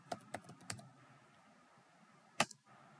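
A few keystrokes on a computer keyboard as the command for checking the OpenSSL version is entered, with three quick taps, a pause, then one sharper click, all close and fairly quiet.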